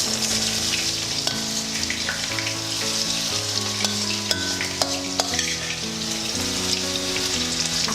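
A fresh batch of brinjal (eggplant) frying in a hot pan gives a steady, close, continuous sizzle with soft crackles throughout, set against a faint tonal backdrop, with no talking.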